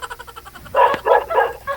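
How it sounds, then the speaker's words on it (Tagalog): Dog barking outdoors, a run of short barks with a louder, closer burst of several barks toward the end, heard alone without talk. "Eh, tinatahol ka na ho ng aso dyan, ma'am."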